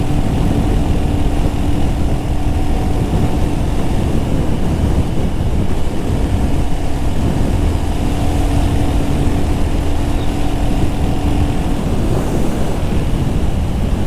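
A 2025 Royal Enfield Hunter 350 motorcycle cruising at speed in fifth gear, a steady engine drone buried under heavy, constant wind roar across the whole stretch.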